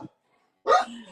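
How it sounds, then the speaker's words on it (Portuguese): A pet dog barks during a live stream, a single sharp bark that is close and moderately loud after a brief pause. "Ele estava aqui bonzinho, mas aí ele começa a latir."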